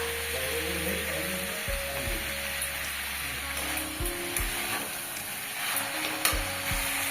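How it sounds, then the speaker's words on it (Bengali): Vegetable stalks frying in a pan with turmeric, chili powder, sugar and white mustard paste, giving a steady close sizzle broken by several scraping stirs of a utensil. "এবার ভালোভাবে মশলাটার সাথে ডাঁটাটা পুরোটাই ভালোভাবে কষে নেব"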